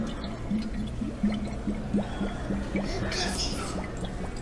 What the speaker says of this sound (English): Por acá se escucha manantial, sonido de agua cuando brota del subsuelo.